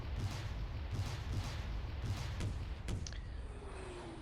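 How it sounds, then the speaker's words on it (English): Mortar and artillery fire in the wargame Steel Panthers lands as a series of rhythmic, booming thuds at steady intervals, moderately loud, with a sharper crack near the end before fading. "These mortars are coming in pretty good there"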